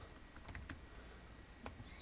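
Soft, sparse keystrokes on a computer keyboard, a few scattered clicks heard faintly and close, with no talking.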